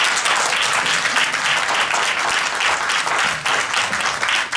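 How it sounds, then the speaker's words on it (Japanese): Audience applause sending off lawyers at a pre-hearing gathering in Japan, a loud, continuous wash of many hands clapping throughout, with a slightly pulsing texture. "皆さん拍手でぜひ送り出していただきたいと思います"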